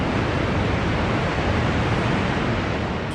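Water rushes from the breached Soviet-era dam on the Dnipro river in Ukraine, a loud, dense, unbroken roar of torrent noise with no pauses or distinct events.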